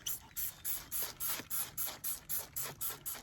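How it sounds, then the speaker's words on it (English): A spray bottle is pumped in a quick steady rhythm, about a dozen short hissing bursts, misting a thrifted item close up and fairly quiet. "So we're just gonna spray this on here"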